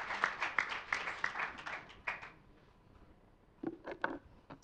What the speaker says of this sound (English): ladies and gentlemen, a big round of applause for this excellent panel